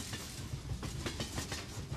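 A train travels the railway to Tibet near Golmud station, its wheels giving a steady, rhythmic clickety-clack over the rails with a continuous rumble of the railcars close by and no voices.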